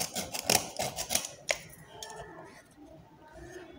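A small blade scraped flat across the surface of a wooden key holder, a quick series of close, sharp scratchy strokes followed by quieter faint scraping.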